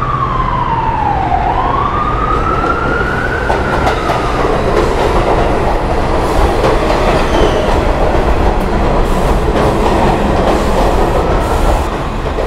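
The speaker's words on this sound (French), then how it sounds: "première fois dans le métro new-yorkais du coup" New York subway train running underground, a loud, continuous rumble and rattle of wheels on track with a high screech that slides up and down early on, steady throughout with no talking.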